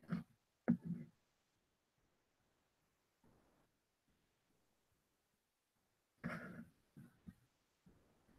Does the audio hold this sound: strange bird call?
no